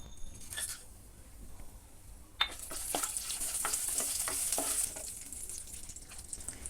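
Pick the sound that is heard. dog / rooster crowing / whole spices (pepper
whole spices (pepper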